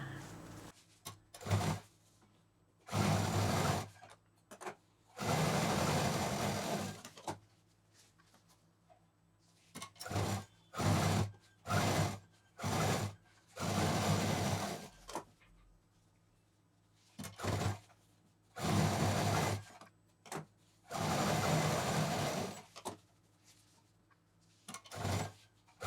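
A sewing machine stitches lining-fabric piping onto a shopping bag in repeated bursts of whirring, separated by short pauses as the fabric is repositioned, close and moderately loud.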